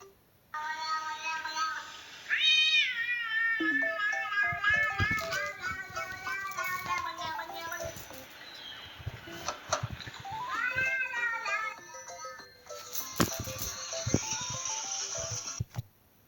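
A child imitates a cat's meow with a series of drawn-out, wavering vocal cries, close and fairly loud, mixed with other children's voices and playful chatter.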